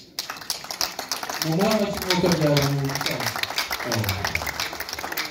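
Guests at a Rwandan wedding clap in a loose, continuous patter beneath a speaker's loud voice, which dominates the foreground throughout.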